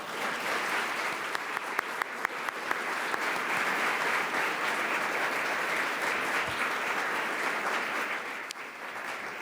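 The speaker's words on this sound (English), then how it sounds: "Let's give them a round of applause." A crowd applauds warmly, sustained clapping from many hands filling a room for several seconds before gradually thinning out.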